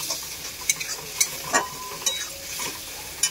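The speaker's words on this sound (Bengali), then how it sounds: "মশলাটা একটু ভাজবো।" Masala paste of chilli powder, salt and spices frying in a pan for Bengali potol chingri, a soft steady sizzle broken by several sharp scrapes and taps of a spoon, close up with no talking.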